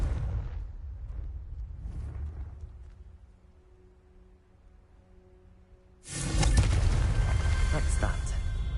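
A Confringo blasting spell explosion in the video game Hogwarts Legacy erupts suddenly and loudly after a quieter stretch of fading rumble and soft tones, holding as a broad, roaring blast to the end.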